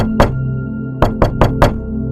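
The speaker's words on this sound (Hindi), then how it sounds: "ऐसा लगा जैसे कोई अंदर से दरवाजा खटखटा रहा हो।" A door is knocked on, one solid knock and then a quick run of four, each sharp and close. The knocks sound over a low, sustained musical drone.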